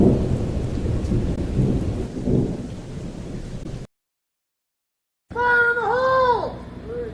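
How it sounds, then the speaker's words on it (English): A thunderstorm rolls with heavy rain and deep thunder rumbles for about four seconds before cutting to silence, after which a high wailing cry rises over a low background. "A mighty storm is on its way, slow but certain,"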